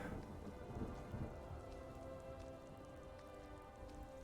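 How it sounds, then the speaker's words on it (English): Rain falls steadily outdoors during a wilderness survival outing, a soft, even patter on surfaces with faint distant rumbling beneath and no voices. "rain seems like it's slowing"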